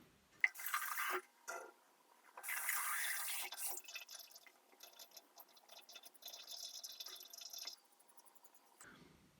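Water drips and trickles into a clogged bathroom sink, coming as irregular bursts of splashing and dripping close by that stop and start over several seconds before fading to silence.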